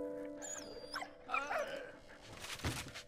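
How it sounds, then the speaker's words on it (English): A first aid dog in the World War I game Valiant Hearts gives a few short, high whimpers and yelps over steady game music, close and fairly quiet, with a soft thud near the end. "First aid dog."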